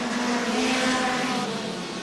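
Hot rod race cars roar past on a 1977 oval track, a loud, continuous engine drone that swells and fades slightly as the field goes by.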